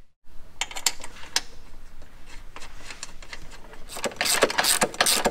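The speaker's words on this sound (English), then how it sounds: "So we're just going to put the 12mm bolt in there." A ratchet tightens a 12mm bolt in a 12-volt touring wiring install, with bursts of quick clicking strokes separated by short pauses, growing louder and busier toward the end, close up and with no talk.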